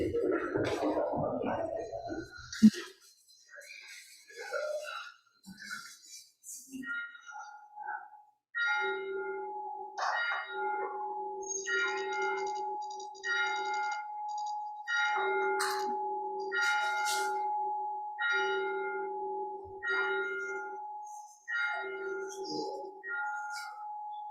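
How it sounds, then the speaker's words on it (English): A bell rung to open a Sunday church service, struck repeatedly in a steady ringing pattern with clear sustained tones across most of the span, preceded by some brief talk and shuffling. "Tegan, would you mind ringing our bell?"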